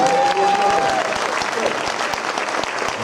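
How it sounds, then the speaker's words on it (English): An audience claps for a high school marching band at a band show, a dense burst of applause that stays steady throughout, with a brief whistle-like tone near the start and a few sharp claps standing out. "Now clap for the band."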